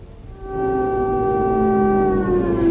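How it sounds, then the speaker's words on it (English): Air raid sirens in Tel Aviv swell in and hold a long, loud, steady wail with layered droning tones, sounding outdoors and spread over distance. "You hear the sirens going off"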